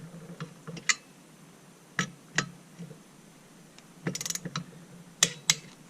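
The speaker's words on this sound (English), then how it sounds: "So I just kind of try and tighten them evenly, one and then the other, to walk it down nice and flat." Muffler bolts on a Farmertec G660 chainsaw are tightened alternately to torque, giving close, sharp ratchet clicks and metallic ticks in irregular short bursts separated by quiet pauses.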